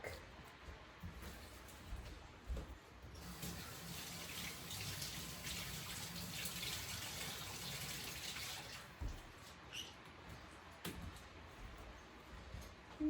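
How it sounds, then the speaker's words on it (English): Sweet basil rinsed under a running kitchen tap, a steady faint gush of water that strengthens in the middle stretch as the leaves go under the stream, with small handling knocks and no speech. "This is just a regular sweet basil. I'm gonna wash them quick."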